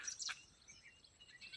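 Birds call in a forest, with thin high chirps that come in short bursts over a quiet background, faint and fairly distant.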